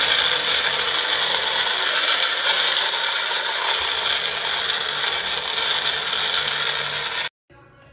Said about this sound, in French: Et après, je fais mixer tout ça.